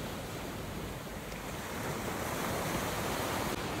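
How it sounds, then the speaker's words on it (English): Ocean surf at Salybia Beach, Trinidad, forms a steady, dense roar of breaking waves that swells slightly louder partway through. Wind buffets the microphone throughout, and there is no speech. "and then the ocean is right there"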